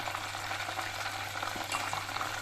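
Breaded KFC-style chicken pieces fry in hot oil with a faint, steady crackling sizzle, quiet and continuous with small pops throughout and no talking.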